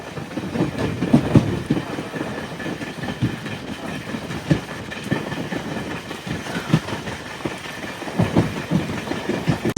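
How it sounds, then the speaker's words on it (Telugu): The Tirupati–Hazrat Nizamuddin AP Sampark Kranti Express rolls past with a steady rumbling clatter of wheels on rails and irregular clunks from the cars, fairly close and sustained throughout. "Tirupati Hazrat Nizamuddin AP సంపక్రాంతి express."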